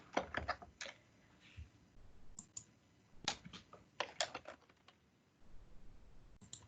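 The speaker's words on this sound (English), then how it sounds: "So I can type in people." Names are typed on a computer keyboard into a Microsoft Teams meeting invite, heard as soft, close clicking keystrokes in short irregular bursts with brief pauses, quiet and without talk.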